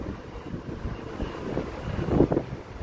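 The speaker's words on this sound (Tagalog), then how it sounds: "Mahangin lang siya." Wind gusting outdoors on a walk to a coffee shop, a steady low rumble buffeting the microphone that swells louder toward the end, with no talking.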